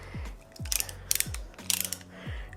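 A ratcheting brake caliper piston compressor tool is worked by hand, giving three close, crisp pawl-and-gear clicking bursts in steady succession with a metallic creak between strokes.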